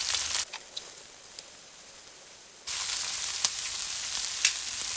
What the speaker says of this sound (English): I'm starting off with my onions, and I'm going to let them gently caramelize